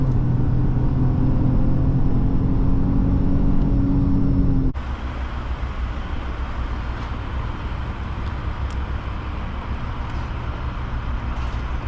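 A 2022 Ford Escape S powertrain on a test drive: a steady loud engine and road rumble with a low drone that drops abruptly to a broader, hissier cabin and road roar partway through.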